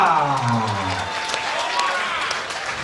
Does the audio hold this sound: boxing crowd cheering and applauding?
yes